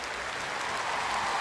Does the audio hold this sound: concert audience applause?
yes